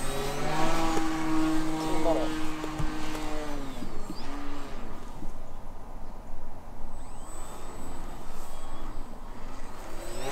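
A 1400mm balsa Dancing Wings Stick RC plane from Bitgo Hobby flies high overhead while attempting a flat spin, its motor whine rising and falling in pitch before fading into a steady rush of wind noise.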